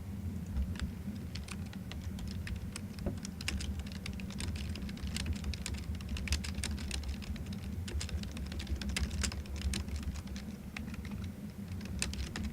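Steady computer-keyboard typing runs throughout in dense, uneven bursts of clicks over a constant low background hum, with no talking.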